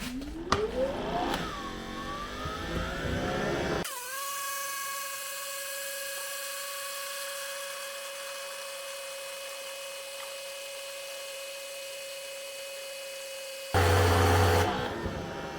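A Greenworks Pro 3000 psi pressure washer runs with a turbo nozzle, its motor holding a loud, steady humming whine for about ten seconds after a burst of clatter, then cutting off abruptly.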